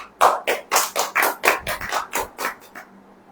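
A church congregation claps at a Hindi sermon, about a dozen loud, fairly even claps in quick succession that die away after three seconds.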